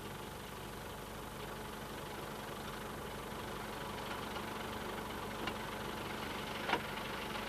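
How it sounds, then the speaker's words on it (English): A mechanical digger's engine runs steadily while pushing an electricity pole up into a shaped hole on St Mary's, Isles of Scilly, a constant low rumble with a couple of faint knocks near the end, no talking. "A mechanical digger pushes each pole up in turn, fitting it snugly into a 6-foot hole"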